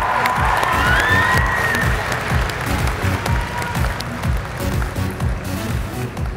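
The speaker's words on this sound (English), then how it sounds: "let's please give him a round of applause" A large audience at a science fair grand awards ceremony applauds and cheers, loud dense clapping with scattered whoops at the start, a low rhythmic music beat underneath, gradually easing off.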